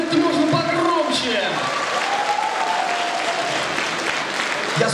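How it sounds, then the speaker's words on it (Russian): Concert hall audience at a Russian variety show applauds as a host asks for louder clapping, a broad steady wash of hands under a talking voice that fades partway through. "Ну тогда Зинка и ваши аплодисменты можно погромче."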